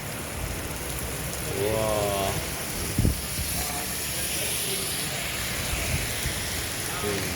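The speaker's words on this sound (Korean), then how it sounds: "비 엄청 옵니다." Heavy rain falling outside a hair salon under renovation, a steady dense hiss throughout, with a brief thump and faint indistinct voices underneath.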